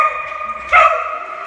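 A close, loud dog bark rings out once over a sustained high whine or yelp from the same dog, with no talk.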